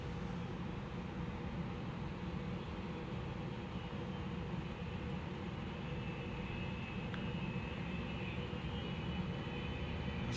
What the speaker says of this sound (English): I got a plane that's coming in right there. It's literally gonna fly right past us.